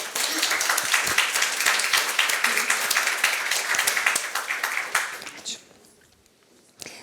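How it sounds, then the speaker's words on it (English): An audience claps steadily for a speaker at a green logistics masterclass, individual claps distinct, then the applause fades out around five seconds into near quiet with a faint noise at the end. "So please give an applause to Ieva."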